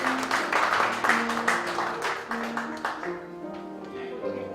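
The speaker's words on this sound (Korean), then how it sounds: "박수 한번 주시기 바랍니다" Applause breaks out at a church assembly's annual general meeting as a pastor and fellow alumni are honoured. Clapping starts strong and thins out, while sustained musical tones play underneath.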